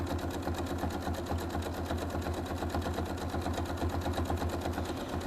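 A sewing machine doing free motion quilting on a mug rug, a fast, steady mechanical stitching chatter heard up close, with no talking.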